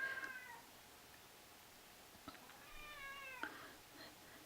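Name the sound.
cat meowing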